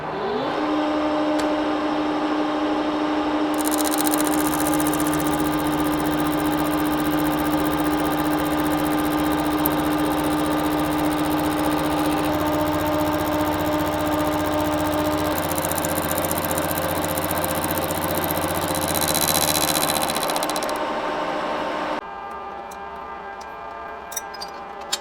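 A bandsaw cuts through a steel piece clamped down in a metal shop, a steady continuous mechanical drone with a sustained low hum and harsh high-pitched grinding that rises and falls in stretches, stopping near the end.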